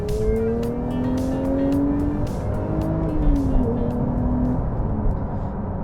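Porsche 992 GT3 with a manual gearbox driving past with a rising, revving engine note through the gears and some tire noise, loud and close with no voices.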